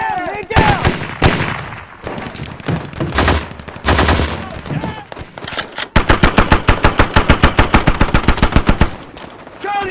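Machine gun fire in a war film battle scene: several heavy bursts, then a long, rapid, evenly spaced string of loud shots, with shouted voices mixed in among the early volleys.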